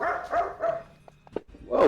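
A dog barks a few loud, close times in quick succession, with a short whimpering yip between, while a person briefly exclaims.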